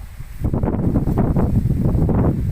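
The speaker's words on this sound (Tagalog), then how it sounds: "Ang hangin naman din." Strong wind on Valle Vista Hills buffets the microphone in loud, uneven gusts, with a rough rushing roar and no voices.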